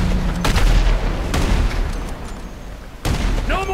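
Gunfire from shooters in Grand Theft Auto V, several sharp loud shots spaced about a second apart, each with a booming tail, and a final shot followed by a rising whine.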